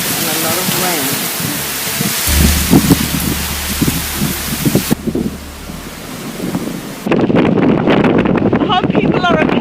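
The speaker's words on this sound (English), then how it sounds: "there's just a lot of wind and a lot of rain" Strong wind and heavy rain batter the surroundings in Vietnam ahead of an approaching typhoon, a loud broadband roar with gusty buffeting against the microphone, and a voice talking over it.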